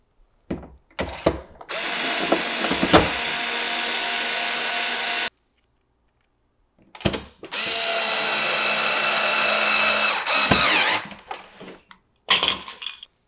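A handheld power drill drives screws back into a SNOO bassinet in two long whirring bursts, close and steady, with brief clicks and handling knocks between runs and a short burst at the end.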